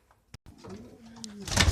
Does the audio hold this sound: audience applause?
no